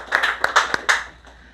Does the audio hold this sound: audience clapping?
yes